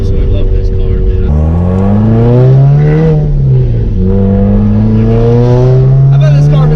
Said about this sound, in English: Oh man, the downshifts sound so good.